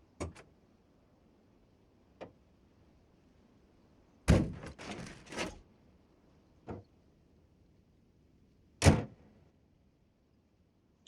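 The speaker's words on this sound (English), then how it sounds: "There's maybe like 4 or 5 different sound sets for the door sounds that are used" Truck doors in BeamNG.drive open and shut with separate thunks and latch clicks, one cluster of rapid clunks in the middle, close and crisp against near silence.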